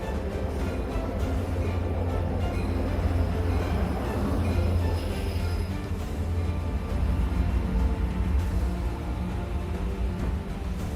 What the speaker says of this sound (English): Observers often marvel at how quietly the train glides,